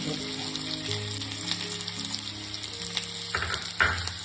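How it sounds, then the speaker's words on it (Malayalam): Chopped small onions fry in hot oil for a Kerala-style payasam, a soft, steady sizzle and crackle that stays fairly quiet, with a brief louder splash of stirring near the end and no voices. "അപ്പോൾ എണ്ണ നല്ല ചൂടായിട്ടുണ്ട് അതിലേക്ക് ചെറിയ ഉള്ളി അരിഞ്ഞെടുത്ത്"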